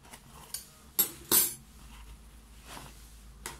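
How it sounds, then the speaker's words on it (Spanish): Camping cutlery rattling inside a Viper Modular Maxi pouch: a few sharp metallic clinks and light jostling taps over a quiet background, close and fairly faint, with no speech. "Son mis cubiertos."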